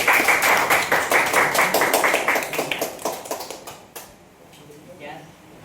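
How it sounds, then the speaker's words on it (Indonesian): A small group claps hands in a classroom demonstration, a run of quick, fairly close claps that thin out and fade over a few seconds, followed by quiet voices talking. "Tepuk tangan lo."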